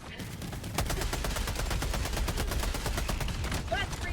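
Sustained gunfire in the video game Helldivers 2, a dense, rapid automatic burst running loud and steady for several seconds.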